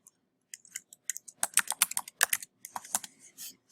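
Close, crisp computer keyboard typing in quick irregular bursts of key clicks with short pauses, no talking.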